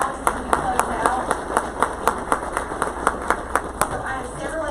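A civic community gathering applauds its discussion panel, with sharp, evenly spaced individual claps standing out in a steady rhythm over softer scattered clapping and faint room murmur.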